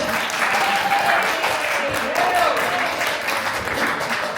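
A conference audience applauds steadily at a cannabis tourism summit, a dense, even wash of clapping hands filling the room for several seconds with a few voices mixed in.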